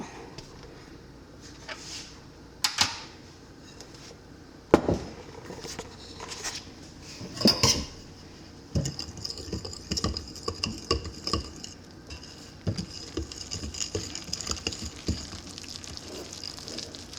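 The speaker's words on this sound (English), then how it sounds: "So let's mix this up." Sourdough focaccia dough being mixed in a bowl in a home kitchen, with soft irregular scraping, sticky squelches and a few utensil clinks against the bowl, fairly quiet throughout.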